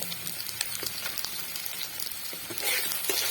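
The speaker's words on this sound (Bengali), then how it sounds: "এটিকে ভালোভাবে একটু নাড়াচাড়া করে নিচ্ছে এর মধ্যে দিয়ে দিচ্ছে নুন আর দিয়ে দিচ্ছে" Spices frying with salt and turmeric hiss and sizzle steadily in a pan as a spoon stirs them, with light scraping taps throughout and the sizzle swelling louder near the end.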